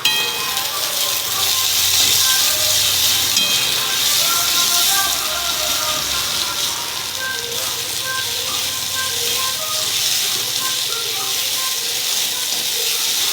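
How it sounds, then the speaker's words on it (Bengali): Ginger, garlic and green chili sauté in a pan with a steady, loud sizzling hiss that holds evenly throughout. "একটু ভালো করে কষিয়ে নিচ্ছি।"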